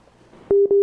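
A telephone busy signal on a call line that dropped from an internet fault and is being reconnected, sounding as loud steady beeps that start abruptly halfway through after a faint murmur.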